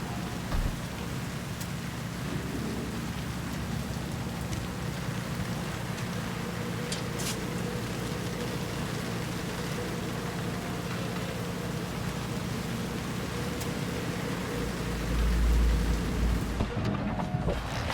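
Steady rain falling in a Cyberpunk 2077 Phantom Liberty city scene, a dense constant hiss with a low rumble of traffic or thunder underneath, ending with a brief louder low swell.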